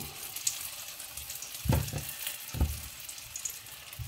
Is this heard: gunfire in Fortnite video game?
no